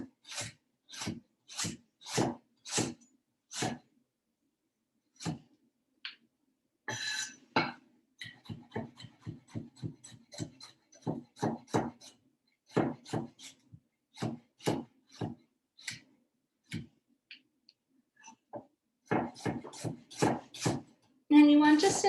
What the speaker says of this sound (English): just take a few radishes that have been washed and you'll slice them